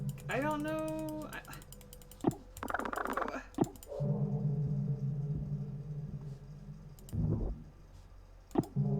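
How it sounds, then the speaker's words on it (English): Rapid computer mouse clicking, a dense run of small sharp clicks mixed with other game sounds and a person talking. "I'm rapidly clicking, y'all. I'm sure you can hear it."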